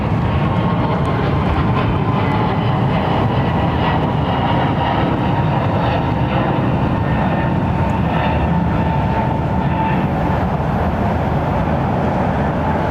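A Boeing 737 MAX jet departs Heathrow with a steady, broad engine roar that stays loud throughout, carrying a faint high whine above it. No voices are heard.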